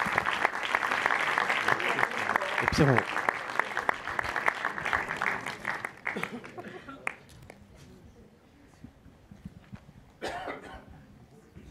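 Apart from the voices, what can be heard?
applause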